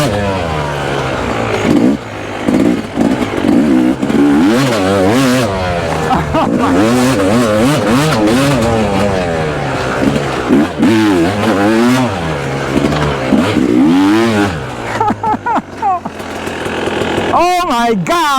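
Yamaha YZ250X two-stroke dirt bike with a Luxon triple clamp ridden hard on a trail track, the engine revving and wailing up and down continuously and up close, with a rider's voice breaking in over it.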